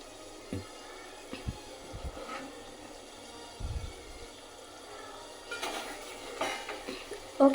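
Chicken curry with fresh coriander leaves is mixed in a pan: soft, scattered scrapes and light clinks of a utensil against the metal, quiet and irregular, with a slightly louder knock at the end.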